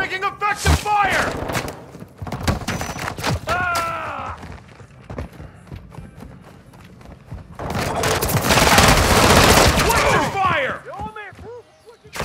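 Call of Duty Modern Warfare 2 team deathmatch gunfire: rapid automatic bursts in clusters, loud and close, with a long heavy barrage near the end, mixed with radio-style voice callouts.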